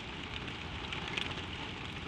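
Gentle spring rain falls steadily, a soft even hiss of drops pattering onto surfaces with scattered faint taps, with no voices.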